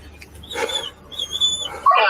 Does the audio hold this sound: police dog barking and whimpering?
yes